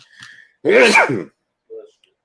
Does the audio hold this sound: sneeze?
yes